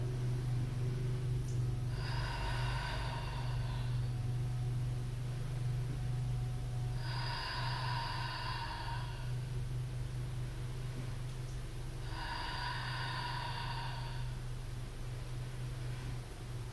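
Slow yoga breathing during a stretch comes in three long audible breaths spaced about five seconds apart. Each is soft and airy, set against a low steady hum in a quiet room.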